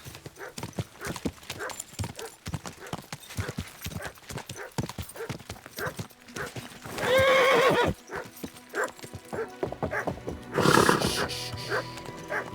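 Steady clip-clop of hooves throughout, with two loud, shrill horse whinnies bursting out partway through and near the end, from the video game Kingdom Come: Deliverance II.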